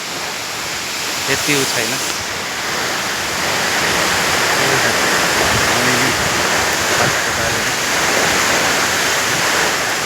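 Water flows and splashes in a stream below a waterfall, a dense steady rushing roar filling the scene, with a brief spoken remark and some wind buffeting early on.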